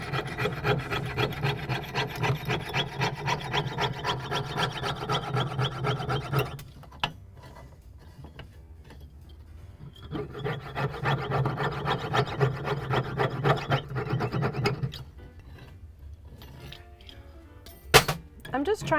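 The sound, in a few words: sawing off material from a cast pendant with a jeweler's saw frame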